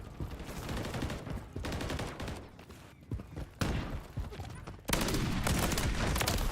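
Dense, overlapping gunfire from Call of Duty: Modern Warfare III multiplayer rattles in close, uneven bursts and scattered single shots, building to a loud sustained volley at the end, with faint voices underneath.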